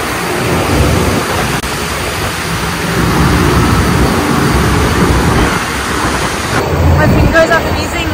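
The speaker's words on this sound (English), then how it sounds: "Okay, the storm is coming" Antarctic storm at -8 degrees with wind and rain: a dense, steady roar of gusting wind and rain noise blasting the microphone continuously at high level, with no clear breaks.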